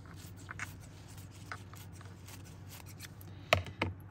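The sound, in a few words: cutting tissue paper sheets in half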